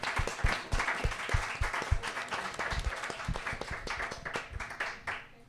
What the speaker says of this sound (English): if we could actually give everybody on the panel a round of applause as a thank you